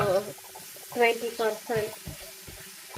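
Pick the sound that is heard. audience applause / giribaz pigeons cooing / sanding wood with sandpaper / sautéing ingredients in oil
sautéing ingredients in oil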